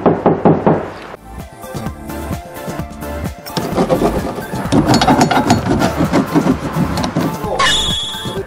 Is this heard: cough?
no